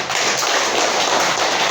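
A room of schoolchildren applauding together, a dense, even burst of many hands clapping close by for a couple of seconds.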